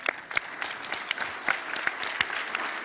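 A panel audience at PAX East claps for a cosplayer in the crowd, scattered sharp individual claps over a softer bed of applause, fairly close and lasting a few seconds.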